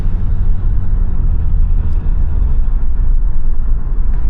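A V6 car fitted with a $100 aftermarket exhaust sends out a loud, steady, deep droning rumble that holds without a break for the whole stretch.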